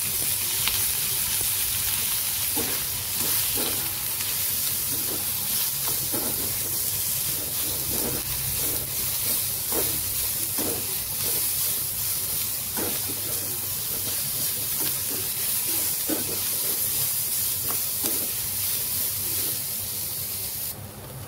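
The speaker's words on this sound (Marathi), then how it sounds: "आता याला चांगला फ्राय करून घ्यायचं. याच्यात थोडंसं तेल टाकून घेणार आहे." Potato and drumstick frying in a little oil, a steady hissing sizzle throughout with occasional soft stirring clicks, close and even, no speech.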